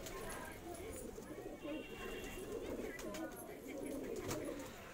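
Andhra pigeons cooing in a loft in the morning, soft low coos repeating steadily close by, with other birds chirping and people talking nearby.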